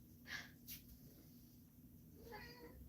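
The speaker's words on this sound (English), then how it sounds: "Meow. He's got a tiny little meow." A couple of soft, tiny cat meows close by, followed by a faint breathy sound over a quiet hum.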